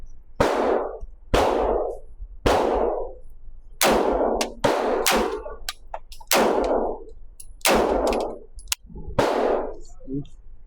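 An HK MP5K clone submachine gun fires downrange in a series of sharp, loud single shots spaced roughly a second apart, each with a short ringing decay, about eight or nine reports in all.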